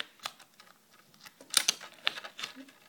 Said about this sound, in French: vous allez prendre votre paire de ciseaux. Et vous allez venir couper votre coque.